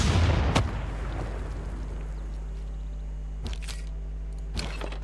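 A single artillery shot fires in the Civilization VI strategy game, a sharp broadband boom at the start that decays quickly into a steady low hum, with a few faint clicks afterward.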